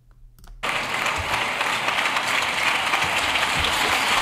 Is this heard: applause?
yes